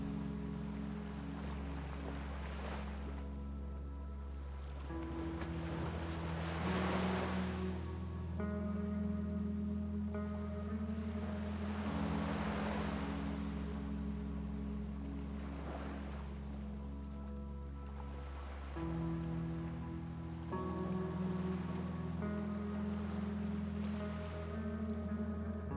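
Sea waves roll in slow, soft swells with gentle surf and wind hiss under a steady, sustained musical drone, calm and continuous with no voices.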